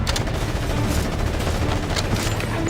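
Dense, continuous automatic gunfire from a Ghost Recon Advanced Warfighter firefight against rebels and an enemy vehicle, loud and sustained throughout with rapid overlapping shots and no clear pause.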